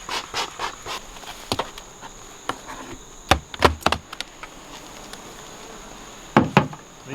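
Honeybees hum around beehives that were recently split from older colonies, with a steady faint buzz over an outdoor background broken by scattered sharp clicks and knocks.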